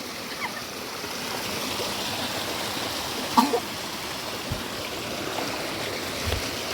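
A river stream where fish are caught with bottle traps: continuous rushing, burbling water fills the scene evenly, close and steady, with a faint knock or two and no talking.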